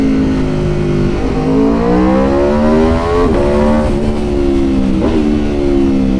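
A 2019 Aprilia RSV4 1100 Factory motorcycle engine revs loud and close, its pitch sweeping up and down through several throttle blips, with no talking.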